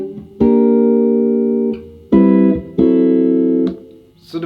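Guitar playing a harmonized melody, each melody note voiced as a chord: three struck chords ringing out and decaying in turn, close and clear.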